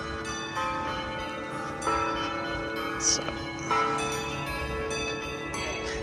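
Automatically played bells ring outdoors in Melbourne, sustained tonal chimes layered over one another with clear strikes, heard at moderate distance amid ambient street noise and a brief word from a speaker.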